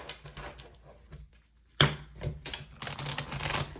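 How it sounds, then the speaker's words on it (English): Tarot cards being shuffled close by, with rapid riffling and flicking bursts that break off briefly, then resume with a sharp slap and grow busier. "So I'm gonna shuffle real quick here."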